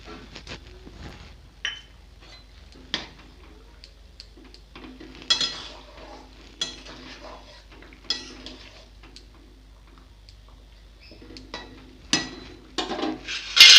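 Cumin and ginger paste is stirred into a nearly finished rohu fish curry with bottle gourd and green banana, bringing scattered clinks and scrapes of a spoon against the pot, sparse and intermittent, over a quiet background with no talk.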